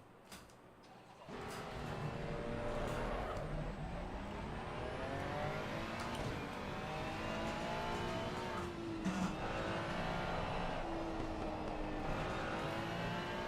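A Ferrari race car accelerates out of the pit lane in Assetto Corsa Competizione, engine note climbing in rising harmonic sweeps and holding a loud, continuous whine for several seconds after a brief quieter opening.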